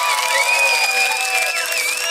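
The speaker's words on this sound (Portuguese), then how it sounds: "Cadê as palmas desse round?" A crowd at a Brazilian freestyle rap battle, Batalha da Aldeia, claps and cheers loudly and steadily, with shrill whistles rising over the roar.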